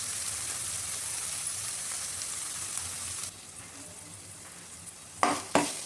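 Coriander and mint fry in a pan for a thick mutton gravy curry, giving a dense, steady sizzle that drops to a softer hiss midway, followed by two sharp utensil knocks near the end.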